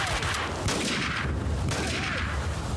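Gunfire in the action game Max Payne 2, repeated sharp shots and bursts over a rumbling battle din, loud and close, with several distinct blasts spread across the moment.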